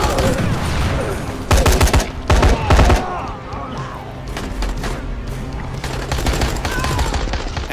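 Rapid bursts of SMG fire in Dying Light The Following, a few loud, close strafing volleys punching through steady game ambience, with clattering impacts between them.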